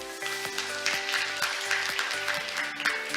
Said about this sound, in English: Kim another round of applause.